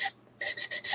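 A sander fitted with 320-grit paper works over a thrift-store piece being upcycled, making short hissing rasps in quick back-and-forth strokes, close and moderately loud, after a brief pause.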